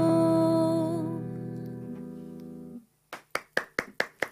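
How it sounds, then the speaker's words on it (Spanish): After a sustained musical tone fades out, a small audience breaks into applause at a radio interview, starting with a few sharp claps and settling into a steady rhythm of loud, close claps. "Aplausos."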